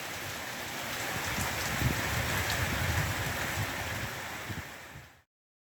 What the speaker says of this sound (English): When it rains in Portugal, it sure does rain.